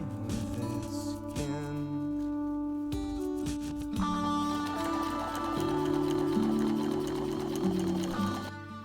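A sewing machine stitching over a rolled seam on a homemade prom dress: a steady mechanical hum and whir running almost continuously, close and fairly loud, mixed with tonal background music.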